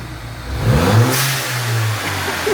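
Mini Cooper JCW engine with a turbo build, warmed up and given a short blip: one quick rev climbs and falls back to idle, loud and close with a brief whoosh, no voices.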